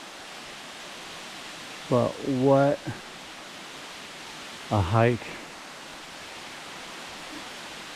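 Cathedral Falls pours a spectacular drop over rock into a small, shallow pool, giving a steady, soft broadband rush that continues evenly while a voice speaks briefly twice over it.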